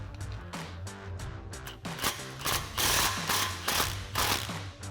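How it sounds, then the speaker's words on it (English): Ratchet snugging the bolt of an exhaust clamp during a Corsa cat-back exhaust install on a Dodge Charger, a rapid clicking pawl in short repeated strokes, close and moderately loud, no talk. "we'll go ahead and snug up that clamp. with the bolt facing vertical."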